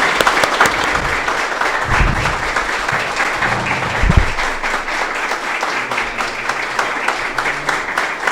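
A studio audience at a podcast claps in a sustained, dense round of applause, loud and even, running the whole time with faint voices underneath.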